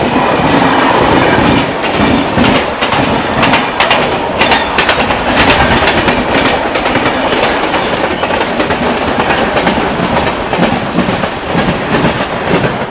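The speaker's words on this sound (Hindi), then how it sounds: "तो ऐसी आ रही है 12566 बिहार संपर्क क्रांति एक्सप्रेस नई दिल्ली" Bihar Sampark Kranti Express 12566 (New Delhi–Darbhanga) passing close by in India, a loud steady rumble of coaches with rhythmic clickety-clack of wheels over rail joints throughout.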